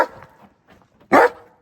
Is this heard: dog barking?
yes